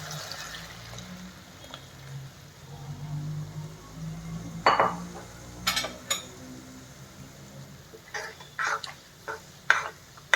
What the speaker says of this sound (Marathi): छान एकजीव करून घेते, म्हणजे गाठी निघून जातील सगळ्या.